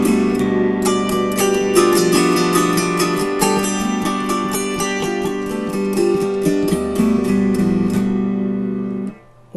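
An autoharp with a special Prizim setup strums a ninth-chord blues scale by open chording, the major bar lifting and closing while the minor bar stays down; dense, ringing strums repeat steadily for several seconds, close and loud, then stop abruptly.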